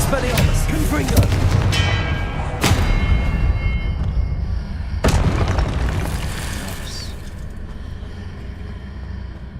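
A Confringo explosion spell fired in a Hogwarts video game, a few heavy booming blasts with sharp bursts spaced a couple of seconds apart over a constant rumbling game backdrop, with a voice calling out spells.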